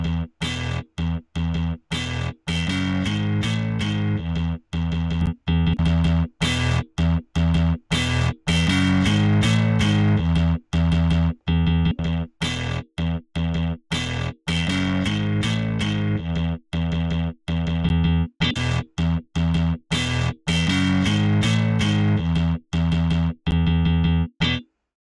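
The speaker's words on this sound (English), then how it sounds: "It's a grimy type of tape distortion." Gritty tape-style distortion from an IK Multimedia Tape Machine plugin in FL Studio, applied to a pulsing synth pattern that chops on and off in rapid rhythmic bursts, loud and continuous with no voices.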